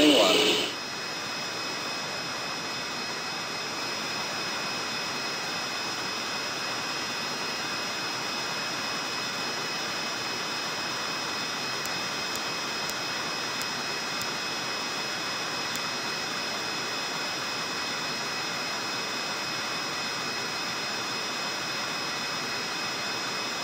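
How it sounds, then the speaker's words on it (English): Boeing 707 jet engines running in the FlightGear flight simulator, a steady loud whine and roar after a brief start burst, with constant high tones over broad engine noise throughout. "All 4 engines started."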